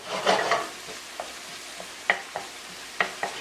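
Pak choi sizzling in a hot pan while being stirred, a burst of scraping and frying at first, then softer intermittent clicks and taps of the utensil over a quiet sizzle.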